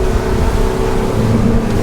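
A Quarken 27 motorboat engine roars steadily at about 3,800 to 3,900 revs with the trim fully down, loud and close, with a constant droning hum and water noise mixed in.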